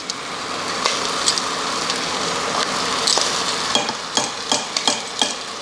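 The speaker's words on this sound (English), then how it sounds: "Stirring that in." Tomato paste is stirred into garlic frying in a pan, a continuous close sizzle broken by repeated scraping strokes of a utensil across the pan bottom, growing more frequent toward the end.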